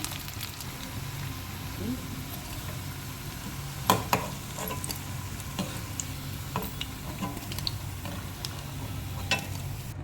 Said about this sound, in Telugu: చక్కగా గోల్డెన్ బ్రౌన్లోకి వేగాలి ఇవి పొటాటోస్